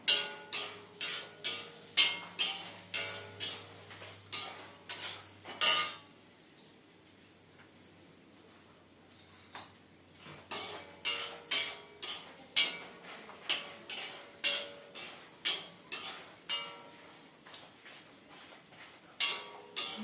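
Coconut and tamarind dry roast in a pan over a medium flame, heard as rapid metallic scraping and clinking of a spoon against the pan in quick rhythmic bursts, with a brief quiet pause midway.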